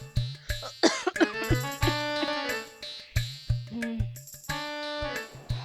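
A person coughs hard and repeatedly in a village comedy skit. The harsh, voiced coughs come in a rapid, uneven series of about a dozen close bursts, with a strained, wheezing tone.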